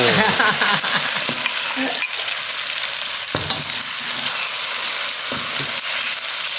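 Chicken ovaries stir-fry with dried chilli and basil in a loud, close, continuous sizzle, broken by repeated scraping strokes of the spatula across the pan.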